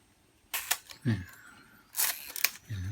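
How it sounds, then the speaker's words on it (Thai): Shutter clicks from a Konica C35 AF compact film camera, a few sharp mechanical snaps with a brief winding or flash whir in between, close and fairly quiet. "ก็เหมือนกันนะขึ้นชัตเตอร์ กดถ่าย"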